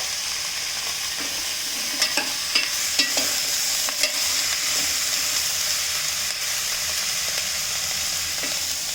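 Potatoes, cauliflower, carrot and peas sizzling steadily in a pan for a mixed vegetable curry, with a few soft scrapes and taps as the vegetables are gently stirred, close and continuous with no voices.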